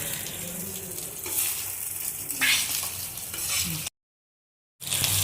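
Wild ivy gourds frying in a pan, a steady close sizzle with stirring scrapes, cut by a sudden silent gap before the sizzle resumes.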